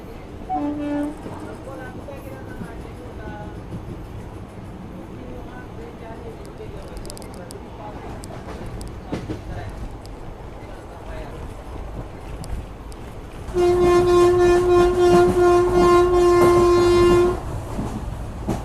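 A Konkan Railway train with a small engine rumbles along steadily with wheel clatter, then a loud, sustained horn blast sounds for several seconds, while someone talks over it.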